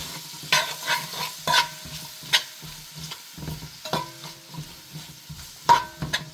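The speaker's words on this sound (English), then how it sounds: "So now we're going to give this a stir." Stirring Jamaican curry fish in a pot: repeated scraping, clinking spoon strokes against the pot in an irregular rhythm, with a faint sizzle underneath, close and fairly quiet.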